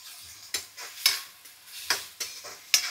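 Curry leaves fry in a pan with salt, a steady faint sizzle broken by several sharp clinks of a spoon stirring against the pan at irregular intervals, close and without voices.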